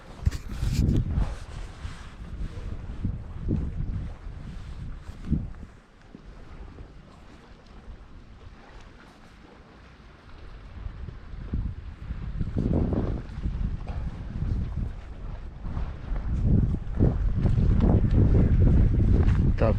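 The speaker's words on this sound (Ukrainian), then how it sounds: "Хлопці дує сильно, голову. Вітер сильний, звісно." Strong wind gusts buffet the microphone outdoors on a fishing boat, a steady roaring rush that rises and falls in loud surges, with water and boat noise underneath and no talk.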